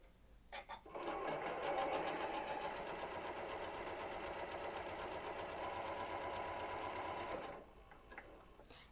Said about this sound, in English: And you notice I'm just chain piecing these.